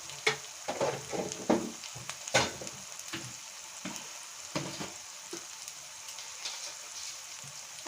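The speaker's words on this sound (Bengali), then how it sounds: "এবার এটাকে ভালো করে কষে নেব।" Spiced brinjal masala fries in a pan with Kashmiri chilli, coriander, cumin and pepper powders, giving a soft sizzle and a few louder bursts as it is stirred, then a quieter crackle.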